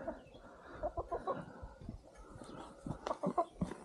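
Chickens clucking softly in a hut, a few short murmuring clucks and low calls scattered over a quiet background, fairly faint and close.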